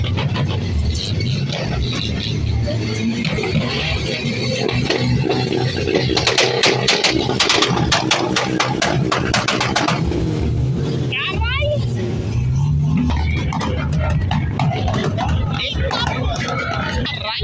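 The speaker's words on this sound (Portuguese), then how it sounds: "barulho de carro encheu minha orelha" Loud engines at a meet of classic and tuned cars rumble and rev continuously nearby, with rapid revving bursts midway, while people chatter in the crowd around them.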